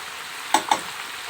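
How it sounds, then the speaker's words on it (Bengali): Fried onions go into mutton frying in a pan: a steady low sizzle broken by two quick scraping stirs close by, with no voices. "আমি এবারে পেঁয়াজ ব্রেস্তাটা দিয়ে দিচ্ছি"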